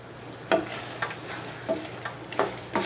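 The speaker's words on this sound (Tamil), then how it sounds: "நல்லா கிளறிட்டு ஒரு 10 நிமிஷம் மூடி போட்டு வேக விட்டுக்கோங்க." Sautéed onion and capsicum stirred into a curd gravy frying in a pan, a soft continuous sizzle broken by several distinct scraping strokes of the spoon at an irregular rhythm, close and moderately quiet.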